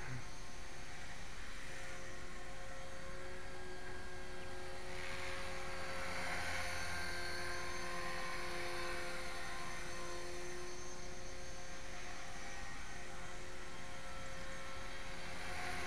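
HK 450GT radio-controlled model helicopter landing in snow, a steady high rotor and motor whine with a buzzing hum that holds throughout, close and fairly loud with no talk.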